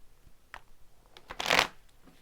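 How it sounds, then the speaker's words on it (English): Tarot cards being given a quick shuffle up close, soft riffling bursts that build into one longer flurry of flapping cards, fairly quiet with no talking. "I'm going to just do a quick shuffle."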